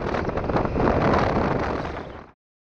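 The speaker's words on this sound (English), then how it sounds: "It was a bit windy on the pass" Steady, heavy wind on a mountain pass in Patagonia roars and buffets the microphone for a couple of seconds before cutting off abruptly into silence.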